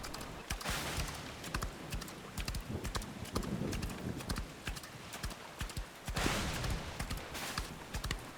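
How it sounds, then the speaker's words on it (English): Horse hooves clip-clop steadily and fairly close as a horse gallops off down a road, the rhythmic hoofbeats running continuously with a couple of louder bursts, no voices. "We left Tam as he came out of the pub, got onto his old faithful horse Meg, and galloped off down the road"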